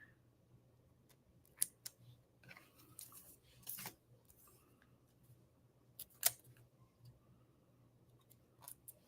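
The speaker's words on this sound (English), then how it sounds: "If you cut them with the top and bottom papers on them, it actually saves your scissors from gumming up too much." Scissors cut sticky tag paper with the top and bottom backing papers still on, making sparse, quiet, close snips and crisp clicks spaced irregularly over a near-silent room, with no talking.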